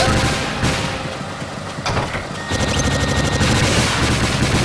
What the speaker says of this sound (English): I do love this gun, but it is so inaccurate.